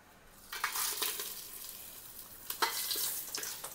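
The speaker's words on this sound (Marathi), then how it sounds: "थोडं परतून घ्यायचं" Cloves, cinnamon, cardamom, peppercorns and bay leaves sizzle as they are stirred in hot oil in a pan for veg dum biryani, with soft bursts of frying and scraping at intervals, close and fairly quiet, no talk.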